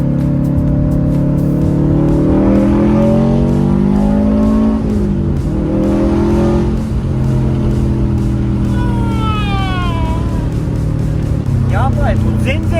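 A Subaru STI's engine revs while driving, heard from inside the car: a steady mid-loud drone with rising and falling pitch sweeps, and people talk over it throughout.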